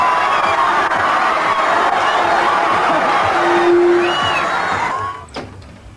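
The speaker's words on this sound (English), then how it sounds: "give him a warm round of applause." A crowd cheers and shouts loudly and steadily for several seconds, with whoops rising above the roar before it begins to fade.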